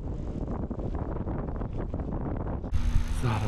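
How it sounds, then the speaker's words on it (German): Strong wind buffets the microphone during a bikepacking ride in France, a continuous low roaring rumble that swells louder near the end, with no one talking. "Der Wind macht es im Moment leider gerade nicht leichter."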